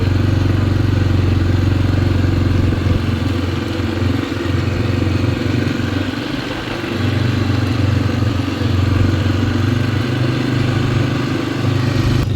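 A quad bike engine rumbles steadily and close while riding through fields in Texas, a loud low drone with slight changes in load and no voices.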